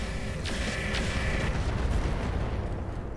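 Mech weapons fire in Roguetech, the BattleTech game, a sustained roaring volley with a couple of sharp bursts layered over a dense, steady rumble.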